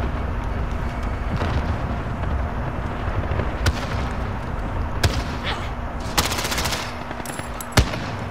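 Explosions and gunfire in Call of Duty: Modern Warfare, a dense wash of battlefield noise with a few sharp loud blasts punching through, including a strong burst late on.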